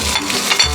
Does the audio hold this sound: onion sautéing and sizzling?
yes